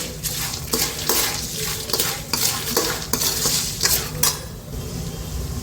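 Beaten rice chivda tossed with salt in a pan, with a spoon scraping and clinking against the metal in quick repeated strokes over a light sizzle, close and busy throughout.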